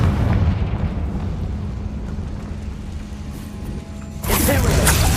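Confringo blasting spell in Hogwarts Legacy going off as a heavy, rumbling explosion that fades, followed near the end by a sudden loud burst of noise, all close and loud with no talking.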